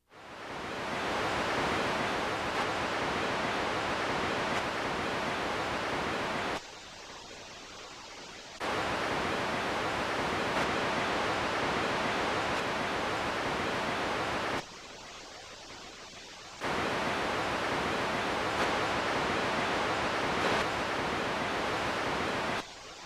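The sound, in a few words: channel-balancing test signal noise from home theatre tape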